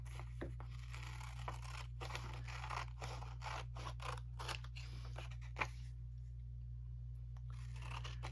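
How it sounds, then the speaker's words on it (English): Paper scissors fussy cutting quilting fabric make a run of close, crisp snips with a steady crunching rhythm over a low hum, then stop as the cutting pauses. "use my paper scissors here"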